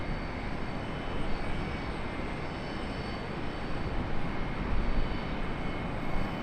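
A Frontier airliner taxis at Charlotte Douglas International Airport, its engines giving a steady broadband roar with slight swells, heard alone without voices.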